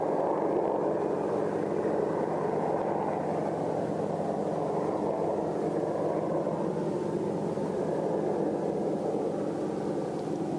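An Apache attack helicopter approaches Wattisham Airfield as a steady, continuous engine and rotor rumble that stays fairly distant and even in loudness throughout, with no one talking.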